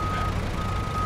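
Reversing beeps from a truck in the SnowRunner game, a steady electronic tone sounding over a low diesel engine rumble, with no talking.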